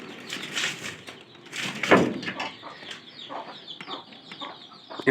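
A pair of pigeons in a loft gather straw for nesting. Close, uneven murmuring calls mix with soft rustling and shuffling, and there are no words.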